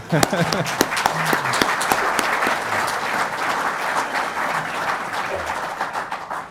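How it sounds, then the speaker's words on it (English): Audience at a climate conference keynote breaks into applause, a mix of sharp individual claps and steady crowd clapping, with voices murmuring underneath. "that is worth an applause"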